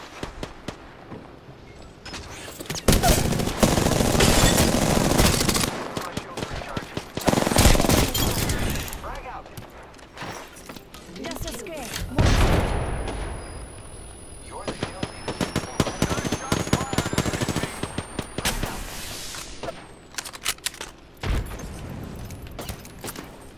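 Bursts of automatic gunfire from enemies in the video game Apex Legends rattle loudly and repeatedly across the scene, with brief pauses between volleys and game effects layered throughout.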